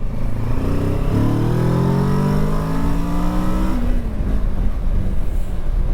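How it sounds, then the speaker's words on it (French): A 2023 Kawasaki Versys 650 engine revving and accelerating through rising exhaust notes, loud and close, then settling into a rough steady rumble with wind noise. "au niveau de la sonorité de la ligne d'échappement, c'est un bruit standard"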